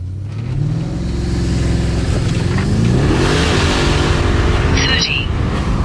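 Audi RS7 fitted with downpipes launching hard on a slight incline, engine roaring up through the revs with a loud sustained exhaust note as the tires spin, heard from inside the car.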